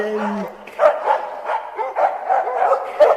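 Dogs barking as an audiobook sound effect: a low tone opens, then a steady run of repeated mid-pitched barks and yips, fairly close and continuous, with no talk over them.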